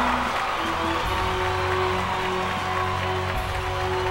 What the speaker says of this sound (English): How about it, Omaha? Get loud for her, cheer on.